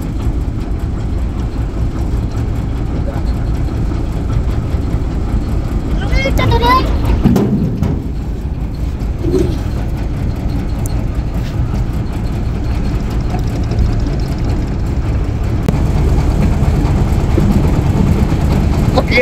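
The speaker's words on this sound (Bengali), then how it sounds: "যমুনা নদীতে নৌকা চালাইলাম লঞ্চ চালাইলাম যমুনা নদীতে" A motorboat engine runs on the Jamuna river, a steady low droning rumble that holds close and loud for the whole stretch, with voices faintly present over it.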